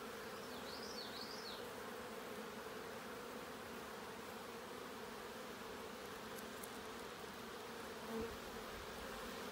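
A steady, dense buzz of many honey bees swarms around an opened hive fed with syrup, continuous and close for the whole stretch with no talk.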